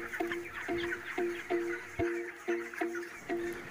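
Broiler chickens in a farm shed give a run of short, evenly spaced clucks about every half second, close and fairly loud, with faint rustling and other birds behind.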